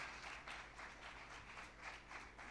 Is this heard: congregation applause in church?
yes